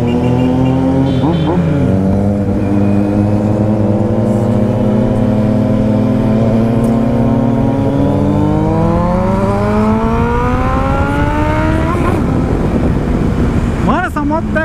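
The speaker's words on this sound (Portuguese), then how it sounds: "Mano, essa moto pega velocidade muito rápido." A Kawasaki Z750 motorcycle engine revs up steadily, pitch climbing as it accelerates hard to high speed, with gear shifts and a roaring rise near the end.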